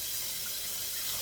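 Steady rushing tap water pours into a sink as collard greens are washed, a close, continuous hiss with no pauses.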